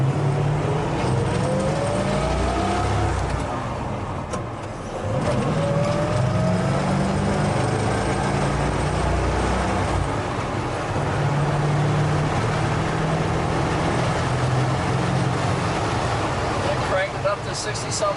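Steady engine and road roar from inside a 1967 Ford Bronco moving at about 60 mph, continuous and fairly loud with wind noise throughout.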